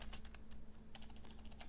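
Quick, steady key clicks from typing on a computer keyboard, close and fairly quiet over a low steady hum, with a short pause partway through and no speech.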